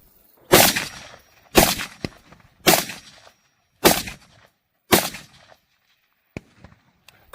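Five loud shotgun or rifle shots fire one after another at roughly one-second intervals at a test target, each sharp blast trailing off briefly, followed by a few faint clicks.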